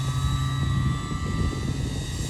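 Steady electric motor and propeller whine of an E-Flite Twin Timber 1.6m RC plane held in a low hover, a continuous drone with a constant tonal hum.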